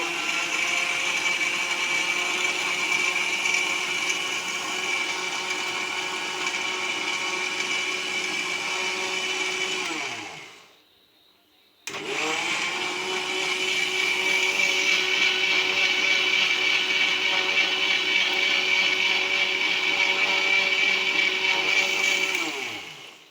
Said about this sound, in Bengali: এখন আমি ঢাকনাটা দিয়ে ব্লেন্ড করে নিচ্ছি